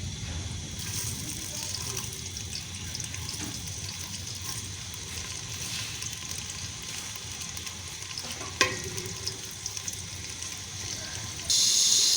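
Steady crackling sizzle of onions frying in hot ghee, continuous and fairly close, with a sharp clink partway through and a brief louder hiss near the end.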